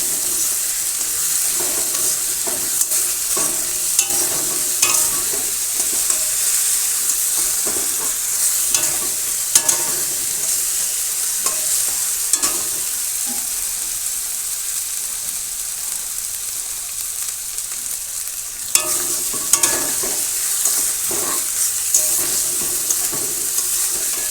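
Chili powder mixed with water is slowly fried into a spice paste in a pan in a village kitchen, a continuous hissing sizzle broken by occasional scrapes and knocks of the stirring spoon, close and steady with no voices.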